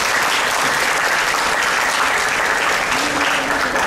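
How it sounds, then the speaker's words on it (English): An audience at a university summer commencement applauds the graduates, loud, dense and sustained clapping that fills the hall without pause. "Please give all the graduates a big applause again"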